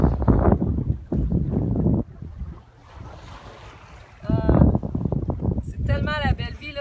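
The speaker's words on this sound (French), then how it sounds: "je sais pas si vous avez entendu le petit bruit des vagues, le son des vagues, le bateau" Small waves on a lake with a clay bottom lap against a moving boat, a soft wash with wind noise heard during a pause between stretches of someone talking.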